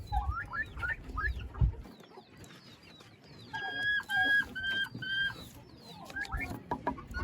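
Three turkey chicks cheep and peep in quick, high-pitched bursts, close by and fairly quiet, with short repeated trilling calls in the middle and scattered chirps throughout.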